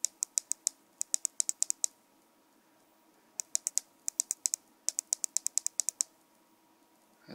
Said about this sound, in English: The buttons are clicky.